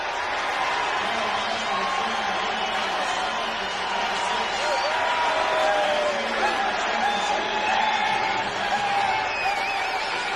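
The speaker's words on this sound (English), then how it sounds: "After a 19-yard return, this crowd is really hopped up." A stadium crowd cheers at a 1988 Vikings versus 49ers football game in San Francisco after a kickoff return, a sustained loud roar under a commentator's speech.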